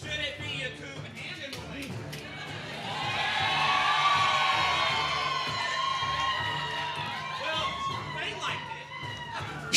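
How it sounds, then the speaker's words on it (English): A crowd at a swing dance invitational competition cheers and whoops, swelling to a peak midway and then settling into shouts and chatter, with voices talking throughout. "So, no, you've got to cheer."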